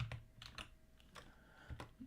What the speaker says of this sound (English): I hate typing this way because of where all my setup is